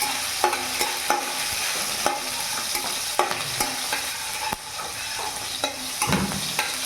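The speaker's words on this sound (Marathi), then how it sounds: "लगेचच आपल्याला कांदा टाकायचा आहे. थोडंसं फ्राय करून घेतो याला." Onion frying in hot oil with chili, cumin and mustard seeds, a steady close sizzle broken by repeated sharp scrapes of a spoon stirring the pan, with no voices.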